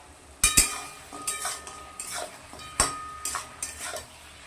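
Metal pot lid lifted and set down during mutton cooking, a few sharp clanks and clatters spaced irregularly over a quiet kitchen background, close and fairly loud.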